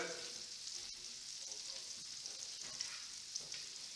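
Fish pan-frying in an open pan, a steady, dense sizzle that runs the full length with small crackling pops, close and continuous, with no voices over it.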